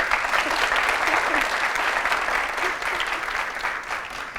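An audience applauds Zaza of Zaza Cake, a cake maker, at a televised contest in a hall: steady, dense clapping that holds level for the full length, with no voice over it.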